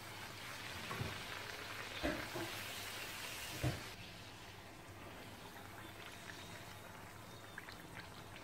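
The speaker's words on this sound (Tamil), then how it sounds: "ஒவ்வொரு பூரியாக பொரிச்சு எடுக்கலாம்." Steady sizzling and bubbling of puri frying in hot oil in a kadai, with a few soft clunks early on, fairly quiet throughout.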